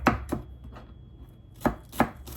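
Knife chopping onion on a cutting board, several sharp distinct chops in two pairs separated by a pause, close and clear with no talking.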